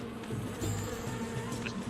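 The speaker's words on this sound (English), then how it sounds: "Swarms of bees roaming the streets." A swarm of bees in the game Shadow of Rome makes a steady, close, droning buzz that runs without a break for under two seconds, with no voices over it.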